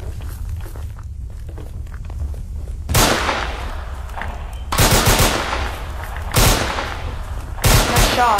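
Gunfire in the video game Unturned, in a World War II setting: several loud, sharp bursts of rapid shots at about three, five, six and a half and eight seconds, separated by quieter stretches with footsteps and game ambience.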